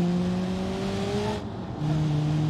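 A red car drives off in the BeamNG driving game, engine tones holding steady and then shifting with a brief dip, loud and close with no talk over it.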